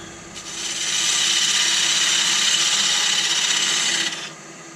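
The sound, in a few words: wood lathe turning tenons on small spoon blanks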